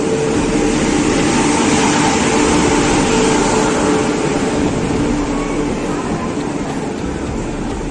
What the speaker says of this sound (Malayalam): ഇതേ ട്രെയിൻ വന്നിട്ടുണ്ട്.